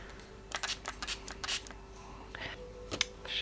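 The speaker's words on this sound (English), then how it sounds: "Just going to spray a little bit of water onto that." A series of short, soft hissing spritzes from a spray bottle, about a dozen quick pumps in irregular rhythm, close and quiet.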